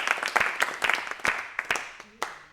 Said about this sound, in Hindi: जोरदार तालियों के बीच स्वागत है